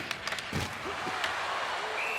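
Hockey arena crowd in NHL 26 during a Maple Leafs–Blues game, a distant, fairly quiet wash of spectator noise with a few scattered claps and thuds early on, steady and low throughout.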